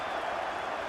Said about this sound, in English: Liverpool level it to the euphoric reaction of the Anfield crowd